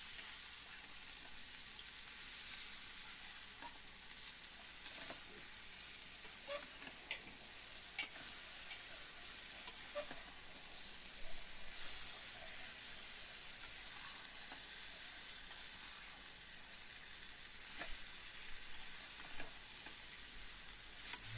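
Brinjal pieces fry in oil with a faint, steady sizzling hiss that runs unbroken throughout, dotted with occasional soft ticks and pops.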